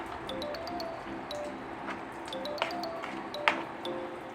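Semolina stirred together with water in a bowl: light metallic pings and soft wet taps recur irregularly, fairly quiet and close, with no one talking.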